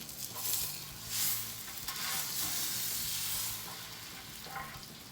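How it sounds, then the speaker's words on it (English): A beef tenderloin roast browning in a hot pan, giving a broad, hissing sizzle that swells and eases in waves, fairly close and moderately loud, with no voices. "So let's get our roast. We'll brown it."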